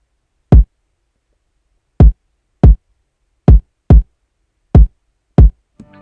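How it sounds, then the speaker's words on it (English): Seven punchy kick drum hits in a hip-hop beat, alone and loud, each a short booming thump in an irregular rhythm following an 808 pattern, with silence between the hits. "I added this kick that follows the 808 a little bit"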